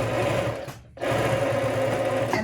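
Sewing machine running fast as it sews fabric pieces together, a dense close whir broken by one brief pause before resuming.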